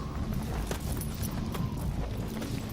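Horse hooves clip-clop in a steady, fairly close rhythm over a dense background of ambient noise, with no talk audible.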